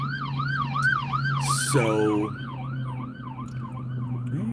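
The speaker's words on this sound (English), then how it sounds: "there's a big old ambulance behind me" An ambulance siren wails in steady up-and-down cycles behind a speaker outdoors, loud and close, with a brief burst of a horn mid-way and a voice speaking briefly.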